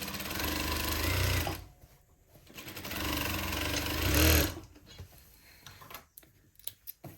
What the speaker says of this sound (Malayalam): ഒരു 1/4 ഇഞ്ചിൽ ഇങ്ങനെ റൗണ്ടിൽ ഒന്ന് സ്റ്റിച്ച് ചെയ്തെടുക്കാം